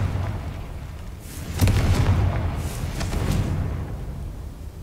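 The Confringo explosion spell cast in a Harry Potter video game, heard as a low booming blast that swells and rumbles, followed by a second softer burst over continuous game background noise.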